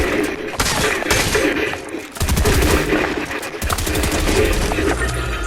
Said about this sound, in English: Shoot through a wall.